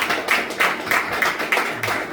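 Church congregation clapping hands together in worship, a steady rhythmic beat of claps at moderate loudness with a reverberant room wash behind it.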